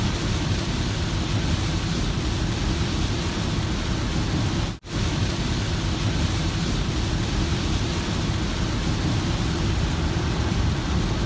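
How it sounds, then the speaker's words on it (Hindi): Heavy rain pours down steadily during a trip to Pembroke, a dense, loud, unbroken hiss that briefly drops out midway. No voices are heard, and no distinct thunderclap stands out. "ताकि आप भी मेरे साथ बारिश को देख सकें और उसकी आवाज़ को सुन सकें"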